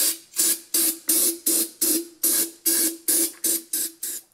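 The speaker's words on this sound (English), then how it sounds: "I'm gonna spray a little carb cleaner in there." Ten or so short, forceful bursts of carb cleaner hiss from an aerosol can into a chainsaw fuel tank in a steady rhythm, each spurt fading before the next, close and loud.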